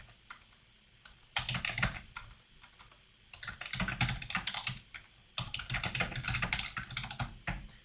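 Fingers type on a computer keyboard in quick bursts of clicking keystrokes, broken by short pauses, close and fairly loud with no voices.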